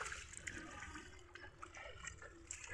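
Freshly picked leafy greens with soil still at the roots are washed in water, a quiet, continuous swishing and trickling of liquid with small splashes throughout.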